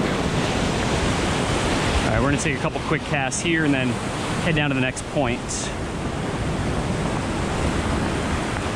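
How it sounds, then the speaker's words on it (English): Ocean surf washing onto a rocky fishing point, a steady broadband wash running throughout at close range, with someone talking over it for several seconds in the middle. "the waves are washing up on top of here"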